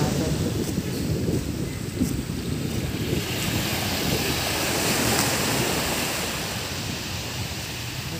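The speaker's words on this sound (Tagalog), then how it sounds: "Dito, maganda alon dito." Continuous roar of surf at Dolomite Beach with steady broadband rush and wind buffeting the microphone, no distinct breaks standing out.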